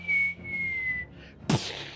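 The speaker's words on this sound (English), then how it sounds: "You hear another whistling sound." A long steady whistle holds a level pitch for about a second, the sound of an incoming projectile over a park with tents and a stone gate, followed by a short burst of noisy impact at the end.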